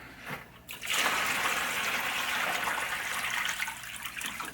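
Hot water pours steadily into a bucket, a loud continuous splashing gush that starts after a brief pause and runs alone to the end.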